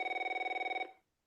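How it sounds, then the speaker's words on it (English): A telephone bell rings in one rapid, trilling burst of just under a second, loud and close, then stops abruptly into silence. "Why am I answering this phone?"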